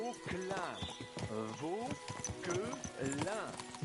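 Horse hooves clip-clopping in Kingdom Come Deliverance 2, with steady rhythmic steps layered beneath nearby speaking voices, the talk and hoofbeats close and clear.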